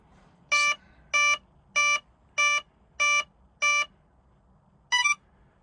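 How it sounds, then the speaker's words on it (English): A series of six evenly spaced electronic beeps from a Spektrum electronic speed controller, sharp and loud in a quiet room, followed by a final higher warbling tone. "So I'm hoping that we'll get the right amount of beeps."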